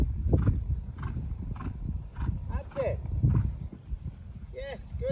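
A horse cantering in a jumping lesson, hooves clip-clopping in a loose rhythm close by, with occasional snorts and a rider or trainer talking over the hoofbeats.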